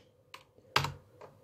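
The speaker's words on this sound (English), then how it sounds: "So say I typed in Lewis." Typing on a computer keyboard: three separate close keystrokes, the middle one loudest, spaced across a quiet background with no talk.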